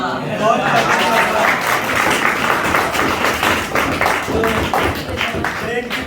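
Students in a physics class clapping together, a sustained burst of many hands at close range with a voice talking over it.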